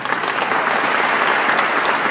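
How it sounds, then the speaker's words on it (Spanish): Audience applause for engineer Roberto Kobeh at a ceremony honoring his 50 years in aviation: steady, dense clapping from a crowd, sustained evenly throughout. "Demos un fuerte y cálido aplauso al ingeniero Roberto Cobo."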